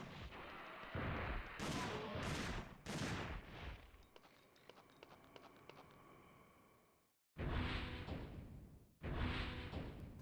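Starting-weapon gunfire in Dino Crisis 2: a string of loud close shots, first spaced reports, then a rapid rattling burst fading out, a brief silence and two more heavy blasts.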